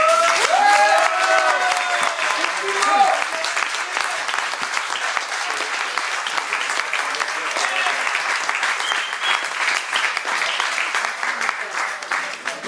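An audience applauds two honored guests at a gathering in Bretagnolles, dense sustained clapping that stays loud and even throughout, with voices and whistling briefly over it near the start.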